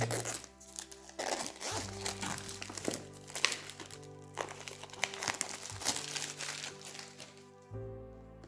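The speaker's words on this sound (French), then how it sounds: "Alors, je le déballe." A boxed oracle card deck, L'Oracle des Lumineuses, is unwrapped nearby: crisp crinkling and crackling of wrapping in irregular bursts, fairly quiet, with no talk over it.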